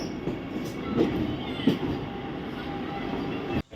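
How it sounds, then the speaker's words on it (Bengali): A Vande Bharat Express train rumbles low and steady close by at a railway station, with faint rattling from the cars and a brief drop in sound at the very end. "এই হচ্ছে বন্দে ভারত এক্সপ্রেস একদম সামনে থেকে"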